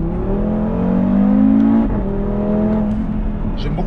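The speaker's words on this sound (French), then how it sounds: "J'aime beaucoup aussi le bruit du 5 cylindres qui fait un son très sympa." An Audi RS3 tuned by ABT with a five-cylinder engine accelerating hard, a loud close droning tone climbing in pitch through a gear, then pulling again.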